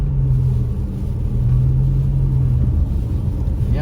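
A car rolls along a snowy mountain road near Big Bear Lake, California, as a snowstorm arrives; a steady low engine and road rumble fills the cabin, with a faint hum and no talking.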